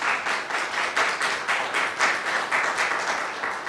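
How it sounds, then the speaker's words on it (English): An audience at a panel lecture claps in sustained applause, a dense, even patter of many hands that holds steady throughout. "let's give our two panelists a great round of applause."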